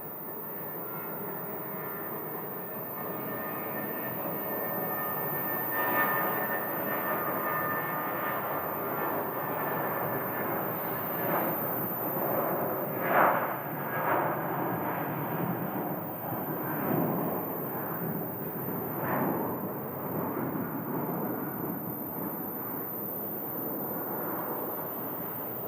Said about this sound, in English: A319 headed to Fresno.